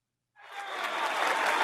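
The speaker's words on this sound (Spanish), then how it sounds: "para ti son estos aplausos." Applause from a studio audience in a Spanish interview setting, starting abruptly out of silence and swelling into steady, dense clapping.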